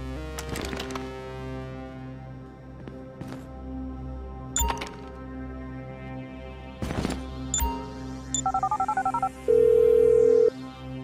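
Phone dialing and ringing in the video game GTA V, with game ambience, scattered clicks and short beeps, followed by a run of dial tones and a steady ringing tone near the end.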